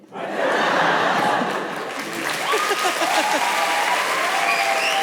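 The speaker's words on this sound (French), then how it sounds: "N'applaudissez pas avant d'entendre." Dense audience applause at a French stand-up comedy show fills the whole stretch, loud and steady with scattered whoops and voices mixed in.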